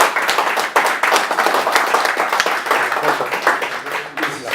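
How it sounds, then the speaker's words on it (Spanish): Audience at a regional inspection-units event in Rosarito, Baja California, applauds an engineer, giving a steady patter of many hands clapping at close range for several seconds. "Les pido por favor un fuerte aplauso para el ingeniero."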